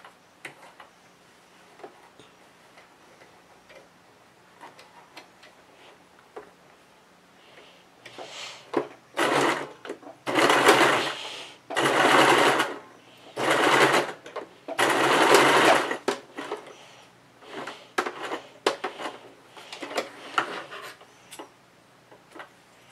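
A sewing machine stitches a small fabric dice bag in several loud bursts of rapid mechanical whirring and ticking, separated by brief pauses and quieter clicks, heard close up.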